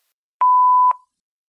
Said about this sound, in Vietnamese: vui lòng để lại lời nhắn sau tiếng bíp